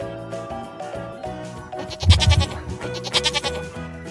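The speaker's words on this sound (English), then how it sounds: "Goat." A goat bleats in a few wavering, quavering calls partway through, heard over steady background music with no speech.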